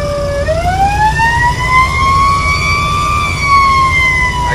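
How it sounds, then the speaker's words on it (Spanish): A loud Federal air siren wails steadily on a parked vehicle, its pitch sweeping up and holding high over a deep engine rumble, with no voices. "Y vamos a calar la sirena de aire"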